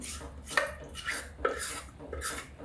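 Rice batter is beaten in a large pot, giving soft rhythmic scraping and sloshing strokes with a faint metallic clink on each pass, four or five quiet beats close by.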